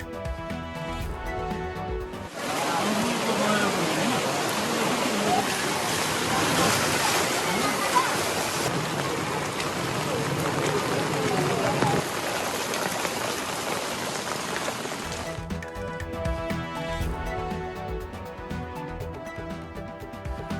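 Floodwater after heavy rain in Nepal surging through city streets, a loud continuous broadband rush and roar that starts abruptly and holds steady for about thirteen seconds before cutting off.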